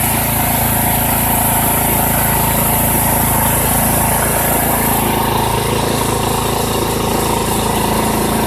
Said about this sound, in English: You can see the tractor's going up.